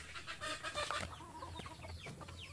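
Broiler chickens, birds of around two kilos each, clucking in a backyard pen, with several overlapping calls close by against a busy farmyard background.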